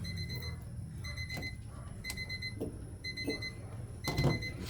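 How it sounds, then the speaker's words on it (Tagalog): An alarm clock rings in a workshop during a wheel-hub bearing repair, repeated short beeping bursts in a steady rhythm over background clatter and low noise, with a louder knock near the end. "Ayan, tumunog na yung alarm natin."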